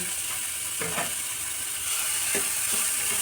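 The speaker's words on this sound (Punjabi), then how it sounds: "ਤੇ ਆਪਾਂ ਹੁਣ ਪਿਆਜ਼ ਵੀ ਭੁੰਨ ਲੈਨੇ ਆ" Chopped onions sizzling in a pan with roasted cumin for a masala kaddu raita, a steady close hiss and crackle with a few soft scraping stirs, no talking.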